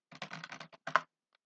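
Keyboard shortcuts typed on a computer keyboard make a quick burst of close clicking keystrokes, then a brief pause and a couple more presses.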